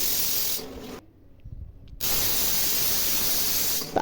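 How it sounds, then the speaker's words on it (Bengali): A pressure cooker cooking chicken for shami kebab vents steam in a loud, steady hiss that stops for about a second, then bursts back just as strongly and runs on. "আমি দুই থেকে তিনটা বাসি দিয়ে নেব"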